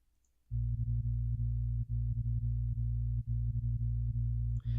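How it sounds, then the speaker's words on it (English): Pure, deep synthesized sub bass tones play as a steady line of sustained notes, with brief gaps between some notes. "So it's a really basic bass line right now, just pure bass tones"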